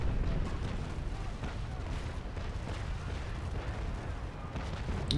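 An enemy ship in the naval game Naval Action fires a cannon broadside, a sustained low rumble of massed gunfire booming far off and fairly faint, continuous across the stretch with a sharper report near the end.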